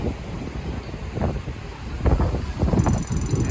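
Gusty wind buffets the microphone in uneven bursts, loud rumbling swells rising and falling over a steady background hiss.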